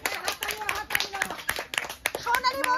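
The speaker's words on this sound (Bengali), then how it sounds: "সবাই হাততালি দাও" A group of people clap together at a family musical-ball game, sharp overlapping claps in uneven bursts with cheerful voices and a child's chatter mixed in, close and lively.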